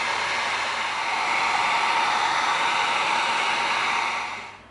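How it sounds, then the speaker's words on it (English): A heat gun blows hot air onto EVA foam with a steady, close, hissing whoosh that holds constant for several seconds before tapering off. "Now we're going to come in with our heat gun."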